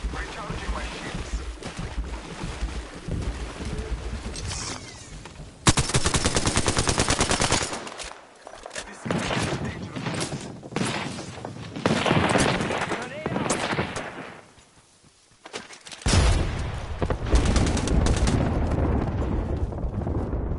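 Video game gunfire roars in long machine-gun bursts mixed with explosive booms and engine drone, loud and dense, with voices talking over parts of it.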